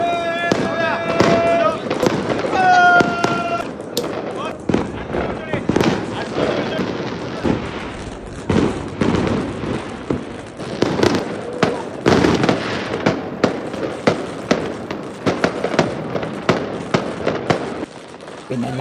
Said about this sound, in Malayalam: മറ്റുള്ള സ്ഥലങ്ങളിലൊക്കെ വെടിക്കെട്ട് അപ്പോഴും നടന്നുകൊണ്ടിരിക്കുന്നുണ്ട് കേട്ടോ